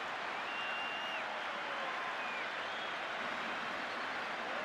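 Broad, steady wash of applause and cheering from a rugby stadium crowd after a try, distant and sustained with faint whistles, no nearby talk.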